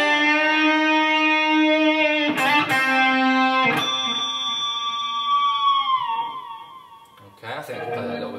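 An electric guitar note rings out with a few plucked attacks, then its pitch dips and wavers downward from the whammy bar before a final short strum.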